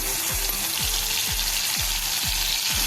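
Okra hitting hot oil seasoned with cumin and asafoetida, a steady bright sizzle with loud frying crackle, plus a repeated low stirring or scraping pulse about every half second throughout.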